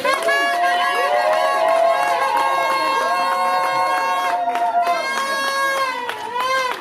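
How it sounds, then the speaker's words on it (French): A wedding congregation at a religious ceremony cheers and acclaims loudly, a dense sustained roar of many voices with high shouts and ululating cries carrying throughout. "On peut acclamer très fort."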